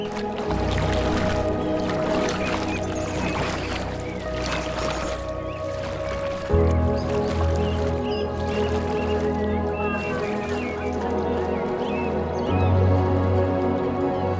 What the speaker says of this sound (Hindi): पीछे दीदी बोट चला रही हैं एंड आगे उनके हस्बैंड सर चला रहे हैं